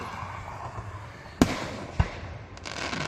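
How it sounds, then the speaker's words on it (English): Two loud fireworks bangs at a fireworks night, a sharp burst followed half a second later by another, with crackling and a fainter pop afterward. "Pink firework."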